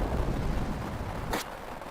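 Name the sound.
gunshot attack in Final Fantasy Tactics, a video game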